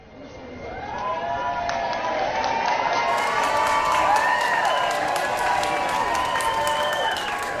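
A crowd greets a man as he steps outside, breaking into sustained applause and cheering that swells within the first second and stays loud and dense, with excited shouts and whistles rising above the clapping.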